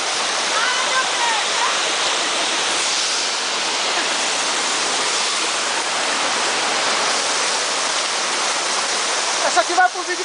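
A waterfall at Pouso da Cajaíba roars in a steady, dense, close rush of falling water, with a brief burst of people's voices near the end.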